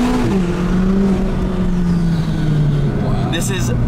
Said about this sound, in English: When the turbo kicks in, it really comes in fantastically.